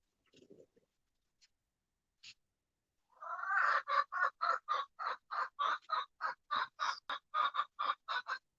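Pet chickens giving a long run of loud, evenly spaced calls close by, about sixteen repeated squawks in steady rhythm after a few faint scattered sounds.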